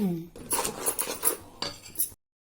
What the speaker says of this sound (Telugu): ఆ పిండిని కూడా కలిపేసి కొంచెం కొంచెం వేసుకుంటూ మంచిగా కలుపుకోవాలి